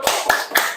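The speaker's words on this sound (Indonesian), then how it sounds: "Kita berikan tepuk aplaus ya." Three distinct, evenly spaced hand claps from Grade 8 students in a school classroom, sharp and fairly close with a short decay between each.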